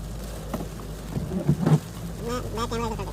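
Heavy rain in Muscat with thunder, a steady broadband wash of rainfall broken by a few louder rumbling bursts near the middle, with faint indistinct voices late on.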